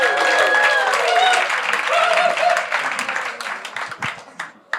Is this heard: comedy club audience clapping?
yes